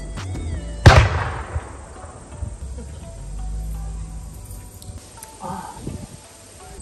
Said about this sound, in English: And there's shotguns in the background.